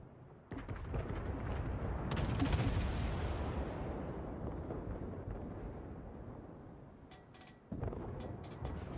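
Naval guns fire in a video game: a heavy booming blast rolls out and slowly fades, followed near the end by another deep report, no talking over it.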